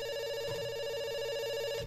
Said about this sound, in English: Yeah, it's ringing. It's still ringing.